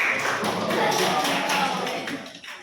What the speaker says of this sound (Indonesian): tepuk tangan untuk Joko